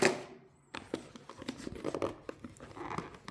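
A knife slices through tape holding a Pokémon card collection set in its packaging, in a series of close, scratchy rasps and tearing crackles, starting after a brief quiet pause.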